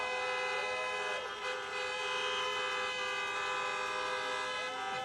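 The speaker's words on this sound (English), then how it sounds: "And of course, honk for your next United States Senators, Jon Ossoff and Reverend Raphael Warnock." A steady chorus of many car horns blares continuously at an outdoor drive-in political rally in Atlanta, Georgia, overlapping tones holding loud throughout with no gaps.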